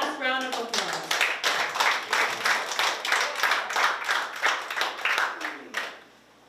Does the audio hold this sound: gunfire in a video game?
no